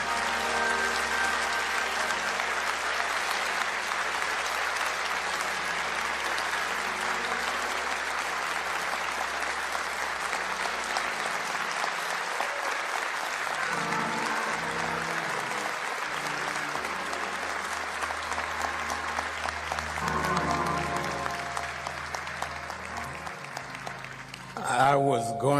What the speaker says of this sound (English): since y'all stood up and clapped so long